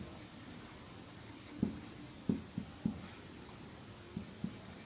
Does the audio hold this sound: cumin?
no